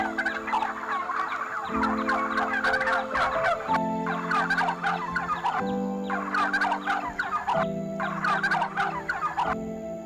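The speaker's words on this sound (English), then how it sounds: "Turkey bird. It's a turkey bird." A farm turkey gobbles loudly and close up in a series of rapid rattling bursts, calling repeatedly without pause and with no voices around it.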